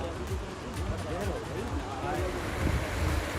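Kosi river running fast and swollen by monsoon rain in Uttarakhand, a loud, steady rushing roar of water mixed with wind buffeting the microphone, with no gaps.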